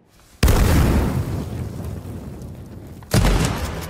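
In a video game, two loud, close explosions boom and then rumble away, the first long and decaying and the second hitting sharply near the end, with no speech.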